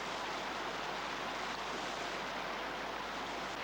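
River waterfall in the remote Kimberley gorge country gives a steady, even rushing roar, faint but unbroken, with no voices.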